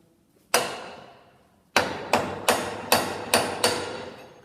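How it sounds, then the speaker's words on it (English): Sharp metallic hammer taps on the saw blade nut of a dimension saw: one strike, a pause, then six quick evenly spaced blows, each ringing briefly and loud and close. "couple of sharp taps like that"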